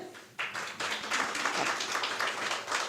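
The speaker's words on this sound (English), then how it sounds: "An applause, please." Audience applause at a public conference meeting, clapping swelling in after a quiet start and holding steady with a ragged, overlapping rhythm.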